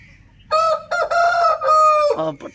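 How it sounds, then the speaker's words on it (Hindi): A Madri Aseel rooster crows once nearby, a loud, drawn-out call rising and holding before trailing off, with faint background noise before it starts. "ये उनकी मदारी मुर्गे फिर रहे हैं"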